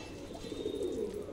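Several pigeons coo in a low, murmuring, continuous burble, close and moderately loud.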